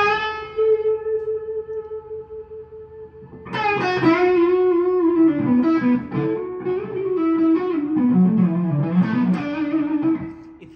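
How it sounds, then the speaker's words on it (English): Vintage goldtop electric guitar on the neck pickup with the controls wide open, first a sustained warm note, then a livelier run of bent notes and phrases, close and fairly loud, no talking. "Neck pickup, wide open, sounds like this."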